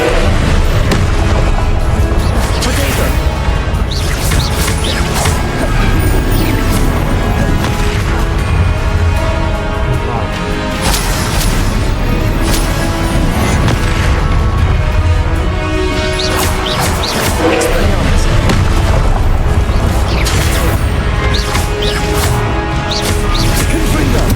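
Confringo spell blasts in Hogwarts Legacy, a loud, dense run of booming explosions and crashes that goes on without a break, with a few shouted spell calls mixed into the din.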